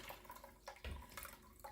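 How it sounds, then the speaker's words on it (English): Birch leaf dye is poured into a dipping pot, giving a brief, faint splash and trickle of liquid, with no talking. "Okay, I can pour it all in there"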